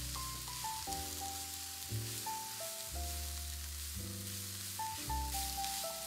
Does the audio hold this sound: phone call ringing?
no